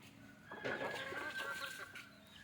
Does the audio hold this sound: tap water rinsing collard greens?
no